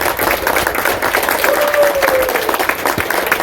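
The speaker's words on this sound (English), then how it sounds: "Let's give IKON and these 3 gentlemen a round of applause" Audience at a firearms event applauding three vendors, a dense continuous wash of clapping from a sizeable crowd that holds steady for the whole stretch, with a faint voice or whistle briefly rising above it.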